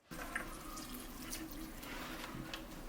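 Water trickles steadily through a timer-run apartment permaculture system, a quiet, continuous flow with faint drips, heard alone without voices.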